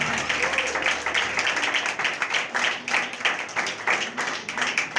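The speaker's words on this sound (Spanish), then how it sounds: "Dale fuerte aplauso a Cristo." A church congregation applauds in a sustained burst of loud, dense clapping that comes in rhythmic waves, close and filling the room, with a voice faintly audible beneath.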